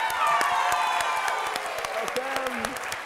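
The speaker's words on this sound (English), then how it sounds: "can we have an extra special round of applause for Carol" An audience at a staff presentation gives a round of applause: dense, close clapping with a few whoops and cheers rising through it, and a voice speaking over the top.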